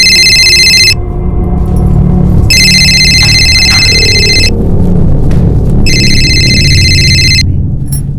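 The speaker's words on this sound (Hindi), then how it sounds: "सोनाक्षी, तुम्हारा फोन बज रहा है।" A mobile phone rings loudly and close by in repeated electronic bursts, each lasting about two seconds with short silent gaps between them, over a low background hum.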